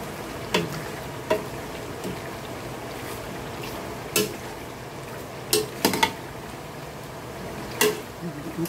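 Pork steak and onions stirred in a pot, a utensil clinking against the metal now and then in sharp scattered knocks over a steady low background, with no talk.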